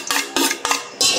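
Chicharon bulaklak, crispy fried pork mesentery, scraped and transferred into a deep bowl, making a few close, sharp clattering scrapes of utensil against dish in quick bursts.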